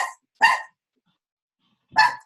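A dog barks three times in separate sharp bursts, spaced out with silence between them, fairly close and clear with no talking underneath.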